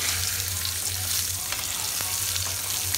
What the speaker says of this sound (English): So we are going to fry the boiled potatoes or uble hue aloo.